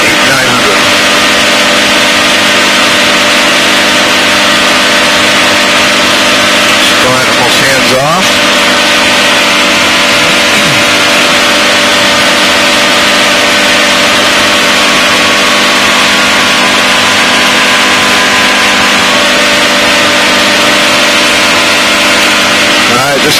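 A light aircraft's engine runs at a steady 5,000 RPM in flight at about 65 mph after a radiator change, producing a loud, continuous drone with a dense buzzing tone that fills the whole stretch without a break.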